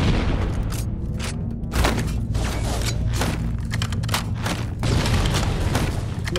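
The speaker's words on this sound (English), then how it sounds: "They're just sending grenades, bro." Grenade explosions in Halo 1 gameplay come as repeated heavy booms and thuds over a dense, continuous wash of battle noise and gunfire, loud and close, with no speech.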